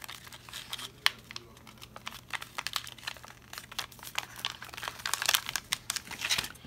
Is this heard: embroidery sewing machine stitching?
no